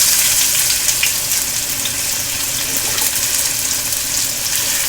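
Mustard seeds and cumin crackling and sizzling in a small spoonful of hot oil, a steady, bright, close spatter with no voices.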